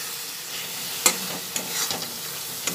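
Chhana cottage cheese and potatoes frying in a pan, stirred with a steady sizzle and several sharp scraping clinks of the utensil against the pan, with no talking.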